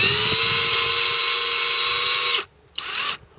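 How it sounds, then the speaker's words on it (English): A power drill drives self-tapping screws into a plastic RV plumbing vent, whining loud and steady for a long run, then stopping briefly before a second short burst and a quick stop. "now we're going to put these screws right back in here, and they are self-tapping"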